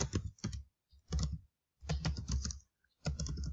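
Keys clatter on a computer keyboard in short bursts of rapid typing separated by brief pauses, close and fairly quiet.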